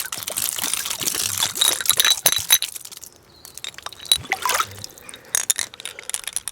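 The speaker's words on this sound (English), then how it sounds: "So I'll just rinse out any of the stained water, give it a good shake up" An antique glass bottle is rinsed and shaken with water, producing irregular bursts of sloshing liquid and sharp glassy clinks close up, with a brief quieter pause midway.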